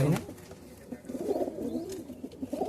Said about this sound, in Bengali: সুন্দর আন্দ্রা পায়রা নিচে একটি আছে দেখুন